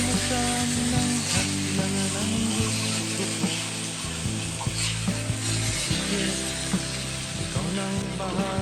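Garlic and tomato sautéing in a pan for a green-shell mussel (tahong) dish, a steady close sizzle with occasional stirring scrapes, no talk.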